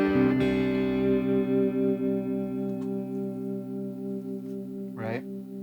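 A sustained chord on a replica 1964 SG electric guitar with ceramic pickups and a Maestro vibrato, through a Super Reverb-type amp with a Tube Screamer, rings out while its pitch wavers with whammy-bar vibrato, ending in a quick warble.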